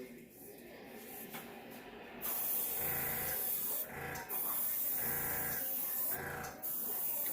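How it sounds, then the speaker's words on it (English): Airbrush run at about 30 psi from a small compressor, blowing air over acrylic paint poured on a 4-inch tile, producing steady broadband hissing bursts that start and stop several times, loud and close. "So I'm going to blow this over."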